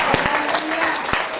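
A church congregation claps and cheers in praise, a loud, busy wash of applause with a few sharper hand claps standing out, continuous through the short stretch.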